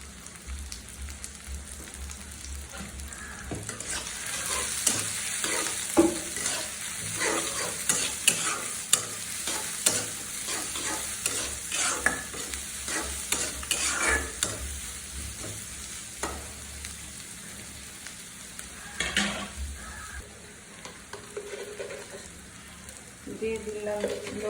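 Sliced green chillies and garlic fry in a pan for a curry of taro roots, a steady hiss and sizzle with frequent scraping stirs of a spatula, and a voice talking faintly at times.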